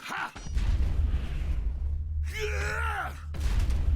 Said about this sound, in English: I love that explosion noise when he hits it too.